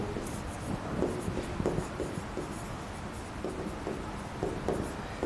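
A teacher writes the word Mexico in large letters during a geography lesson, with steady, scratchy marker or chalk strokes coming in irregular bursts close by and no talking.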